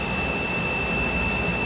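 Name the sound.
styrofoam factory machine running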